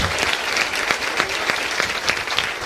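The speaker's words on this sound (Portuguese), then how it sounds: "Pode aplaudir a revelação do Espírito Santo" A church congregation applauding loudly during a sermon, a dense and steady burst of many hands clapping close by, with no talking.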